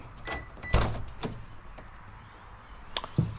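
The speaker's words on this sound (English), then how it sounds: "Let me open the door first." A Subaru car door is opened in a garage, giving a few short mechanical clicks and thumps: one sharp knock near the start, a second knock shortly after, then a quiet pause and another pair of clacks at the end.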